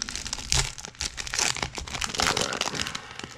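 Topps and Panini trading card pack wrapper torn open by hand, a close, loud stretch of crinkling and ripping foil plastic with sharp tearing bursts and no talk.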